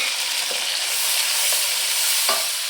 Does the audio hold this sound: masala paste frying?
yes